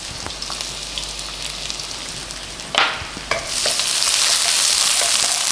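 Onion and garlic frying in a pan for shrimp scampi pasta, starting as soft crackling with a few stirring knocks and then swelling into a loud, steady sizzle, with no one talking.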